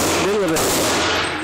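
A single sharp, loud shot from a Smith & Wesson Model 63 revolver cracks at close range and rings out briefly afterward.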